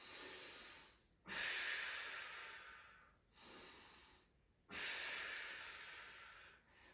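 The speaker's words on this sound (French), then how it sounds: "Continuez ça chez vous. Continuez cette respiration pendant que je continue de parler." Slow, deep breathing from a decompression exercise: two long airy inhales, each followed by a gradual exhale, close and soft, with no talking.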